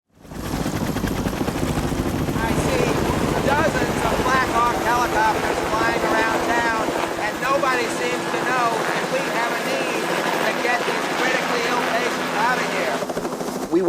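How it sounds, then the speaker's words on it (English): Dozens of Black Hawk helicopters flying around during an evacuation of hospital patients, a loud continuous rotor drone with a chopping pulse throughout, sounding close and masking everything else. "Dozens of Black Hawk helicopters flying around"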